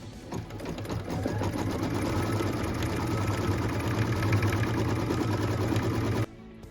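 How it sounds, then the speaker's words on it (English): An embroidery sewing machine stitches a tack-down line on a zipper pouch made in the hoop, giving a steady, close, rapid mechanical whirring for about six seconds before stopping abruptly. "What we're stitching now is the tack down line for piece number 5."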